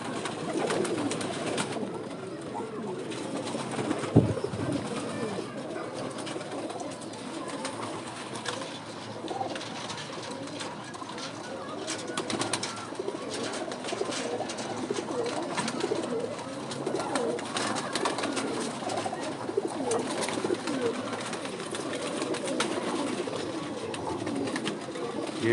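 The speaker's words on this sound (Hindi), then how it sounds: "एक और कबूतर दोस्तों, ये भी मेरा बड़ा कबूतर है।" Pigeons of the original Kamoja 79 strain coo steadily on a rooftop, their soft, overlapping calls continuing throughout against a constant outdoor background hiss.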